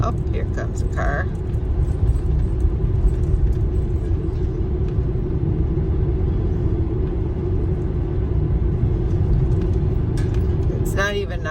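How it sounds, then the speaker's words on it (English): A car approaches at night through a campground at Boulder Beach, its engine a low, steady rumble that builds slowly under a person talking, with a few faint clicks and rattles. "here comes a car."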